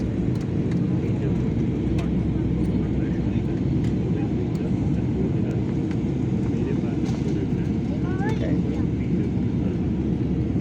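Steady, loud broadband roar of a passenger jet cabin on approach to landing on a flight from Udaipur to Delhi, a constant engine and airflow drone filling the whole stretch with faint brief tonal chirps near the end.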